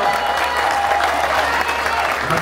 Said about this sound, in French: Applaudissements pour Mathieu Van Der Poel.